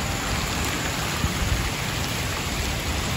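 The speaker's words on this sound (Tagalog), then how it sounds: "lumalakas yung ulan" Rain falls steadily on surfaces in an outdoor cemetery, a dense constant hiss with a few louder drops, heard alone.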